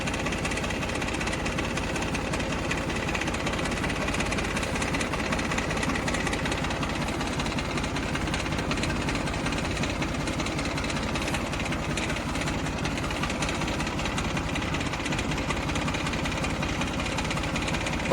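A New Holland 3030 tractor's diesel engine runs steadily at idle with a constant knocking throb, close and unchanging throughout with no speech.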